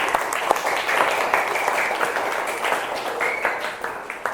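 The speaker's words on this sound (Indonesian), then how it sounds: "Tepuk tangan buat kelompok 1." A fourth-grade classroom applauds a student group after a presentation, with steady, dense clapping from many children that continues for several seconds and carries some background voices.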